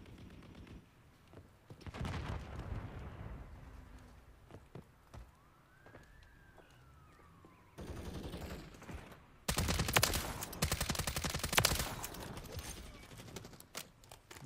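Honey Badger rifle fire in Modern Warfare 3 rattles out in several short bursts, the loudest near the end, mixed with other game sounds and a rising whine.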